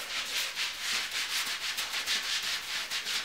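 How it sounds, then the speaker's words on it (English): Self tanner is rubbed into skin with a mitt, giving a close, soft swishing friction in quick regular strokes, roughly three or four per second, steady and alone with no voices. "just rub it in on the top and then blend it out"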